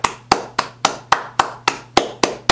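A single person clapping hands in applause, ten sharp, evenly spaced claps in a steady rhythm, close and loud with a light hum underneath.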